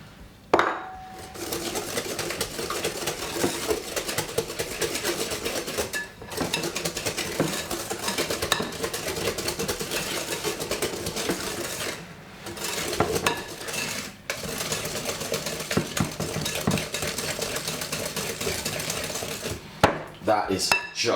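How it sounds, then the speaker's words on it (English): Egg, sugar and butter are creamed together in a bowl for a simple sponge cake, giving a steady run of clinking, scraping whisk or spoon strokes against the bowl that pauses briefly a few times. "I'm just creaming the egg, the sugar and the butter together."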